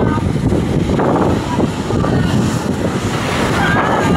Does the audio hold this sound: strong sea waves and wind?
yes